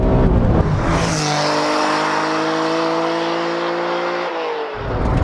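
A Honda NSX with a 3.0-litre V6 VTEC engine revs hard on the road, its tone rising smoothly through the gears under load before dropping off near the end, loud and close.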